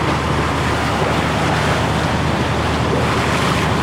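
Ocean waves wash and churn around a small fishing boat at sea, a loud, continuous roar of water and wind noise without a break, close to the microphone.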